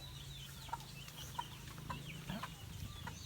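Small Rhode Island Red chicks peep in short, high, scattered calls at close range over a steady low background hum on a backyard poultry farm, with no talking.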